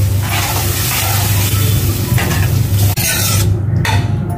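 Mashed vegetables are stirred into pav bhaji spices frying in a pan over lowered gas, giving a loud, continuous scraping stir over steady sizzling, with a brief break near the end.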